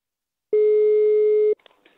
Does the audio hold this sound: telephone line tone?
yes